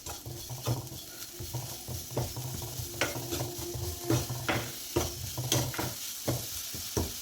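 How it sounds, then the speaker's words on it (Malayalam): A spoon stirs a sizzling banana-ball filling of jaggery powder and cardamom in a hot pan, giving rhythmic scraping strokes over a steady low fry, close and unaccompanied by speech. "എല്ലാം കൂടി ഒന്ന് ഇളക്കി കൊടുക്കാം"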